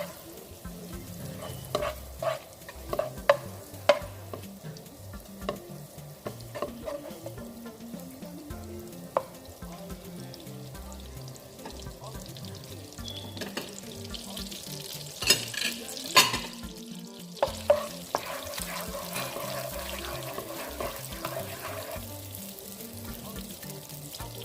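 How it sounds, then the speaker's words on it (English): Walnuts fry in melted butter in a wok, giving a steady sizzle with intermittent stirring clatter and scraping against the pan, close and continuous throughout. "Now let's go to the wok and to the walnuts frying."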